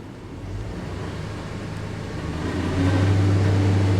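A Ford V8 engine held under load hums with a steady low drone, then steps up noticeably louder and higher as the revs climb partway through, with no voices.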